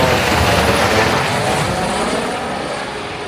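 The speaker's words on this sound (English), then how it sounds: "Once in a while, we hear the overhead sounds of the Montserrat helicopter tours" A tour helicopter flies overhead above the abandoned, volcano-buried city of Plymouth on Montserrat, producing a loud, steady rotor and engine roar that slowly fades, with no voices.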